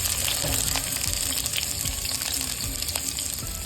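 Chopped onion frying in a pan for hamburger vegetable soup, a steady close hiss and sizzle that runs throughout without pause or talk.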